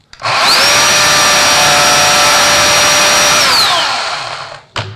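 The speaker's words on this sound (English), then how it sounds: "I'm going to run the saw and I'm going to pull the lever for 3 to 5 seconds" Oregon PowerSharp battery chainsaw revving up and running steadily for about three seconds while its chain is sharpened, a loud high whine with a clean tone that winds down at the end, followed by a brief knock.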